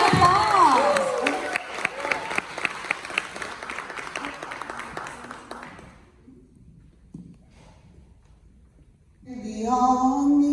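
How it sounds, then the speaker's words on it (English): Crowd applause and cheering at a gathering, a dense burst of clapping that fades over about six seconds into near quiet, followed by a voice speaking at the end. "give her a huge round of applause"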